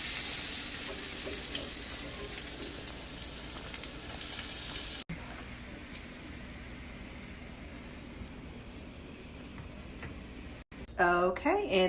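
Small cornbread cakes fry in a pan with a continuous, fairly faint crackling sizzle that carries on steadily, and a voice speaks briefly at the very end.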